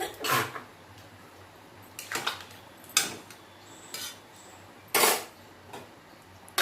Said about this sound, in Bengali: ঢাকাটা দিয়ে দিলাম।